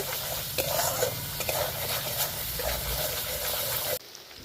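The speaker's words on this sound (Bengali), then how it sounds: "এক চামচের মতো লঙ্কার গুঁড়ো দিয়ে দেবো আবারও আমি মশলাটা ভালো করে একটু কষিয়ে নেব" Spice masala with chili powder, sugar and salt is sautéed in a pan for a prawn rezala, making a loud continuous sizzle with busy scraping stirs that stop abruptly near the end.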